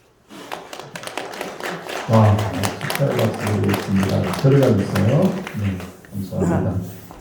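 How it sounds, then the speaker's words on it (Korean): Church congregation at a Christmas service clapping in celebration, a sustained burst of many hands filling the room, with a voice speaking over the applause. "축하의 박수 드리겠습니다"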